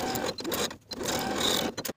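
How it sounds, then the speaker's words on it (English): Close, steady whir of a sewing machine stitching a cuff onto a blouse sleeve at a 5/8 inch seam allowance, with a brief pause in the middle before the run resumes and stops sharply. "Sew the cuff to the bottom of the sleeve from one side to the other with a 5/8 inch seam allowance."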